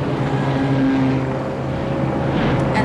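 A motorboat engine roars steadily through a chase scene in the 1973 James Bond film Live and Let Die, a loud continuous drone with a brief higher whine partway through and a splashy burst near the end.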